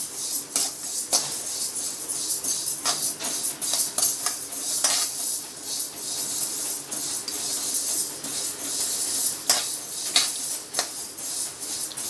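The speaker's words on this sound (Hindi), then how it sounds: "सारी का हाथ हिलाते रहने का, तब तो वो जलेगा नहीं, दाल जलेगा नहीं, इसलिए इसको कंटिन्यू स्टर करना पड़ेगा।" A spoon repeatedly scrapes and clinks in a metal pan as dal is stirred while it dry-roasts for protein laddu, giving an uneven run of close scraping strokes over a soft hiss.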